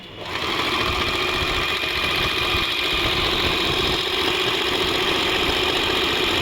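An Usha Janome Stitch Magic sewing machine stitching at steady speed close by, giving a loud, continuous mechanical whir and rapid needle chatter with no pauses.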